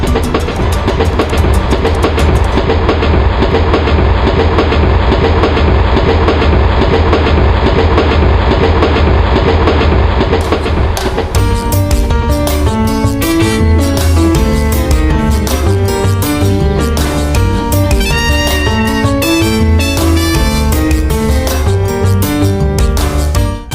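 Steady rumbling train noise on the Colombo to Jaffna line in Sri Lanka fills the clip, with rhythmic clattering of wheels over rail joints growing more distinct in the second half, loud and continuous.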